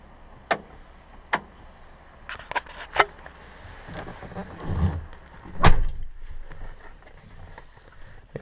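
Doors on a 2001 Ford F150 pickup opening and closing: a series of sharp latch clicks spaced about a second apart, then rustling and a heavier, louder thud as a door shuts, heard close by with no talk.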